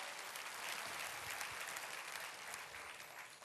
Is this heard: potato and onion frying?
no